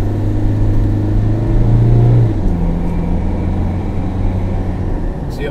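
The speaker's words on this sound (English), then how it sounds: "Let's give it a bit of acceleration here." Peugeot Landtrek pickup with a 1.9 litre engine accelerating on the road, a steady droning engine note rising in pitch and loudness over a couple of seconds, then settling into a working cabin rumble with no talk.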